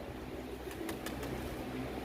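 A young pigeon flies in and lands. A few quick bursts of flapping wings sound close, over a quiet outdoor background, with a faint coo.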